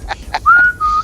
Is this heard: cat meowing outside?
no